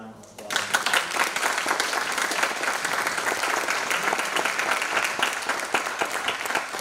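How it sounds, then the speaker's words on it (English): A small crowd at a public forum gives a round of applause, steady and dense clapping that lasts several seconds right after a voice calls for it. "can we give them a round of applause?"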